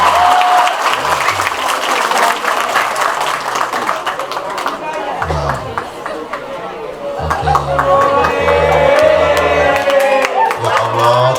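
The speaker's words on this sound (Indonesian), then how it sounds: "Tepuk tangan untuk saya." A crowd at a Maulid Nabi religious gathering claps in a loud, busy burst of hands that runs for over ten seconds, with people chattering and calling out throughout.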